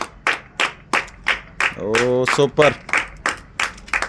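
A small group claps in short, sharp bursts of rhythmic applause at a drinks-guessing game, pausing briefly as a voice speaks an enthusiastic exclamation in the middle.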